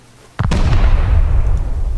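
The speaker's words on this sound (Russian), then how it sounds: "Стреляют с крыши." Gunfire from a rooftop in the video game Rust: a sharp close report, then a second crack that rolls into a heavy, lingering booming rumble.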